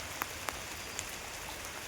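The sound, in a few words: rain falling on a tree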